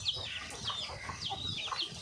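Chickens clucking on a farm set in a grove, with several short repeated calls spread across the clip against steady outdoor background noise.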